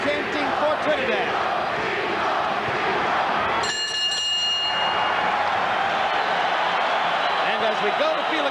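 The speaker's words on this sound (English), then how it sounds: "Crowd chanting for Trinidad." Boxing arena crowd at a Felix Trinidad versus William Joppy fight, a loud rhythmic chant rising from the packed stands, briefly dipping midway before surging back, continuous and roaring.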